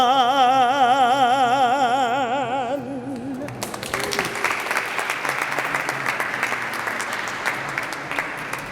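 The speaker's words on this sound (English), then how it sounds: "Let us please give another round of applause to our vocalist, Ethel Johnson" Applause for a vocalist at a press conference for HBCU Heritage Day, breaking in after a sustained sung note fades and continuing as a full, steady clapping crowd to the end.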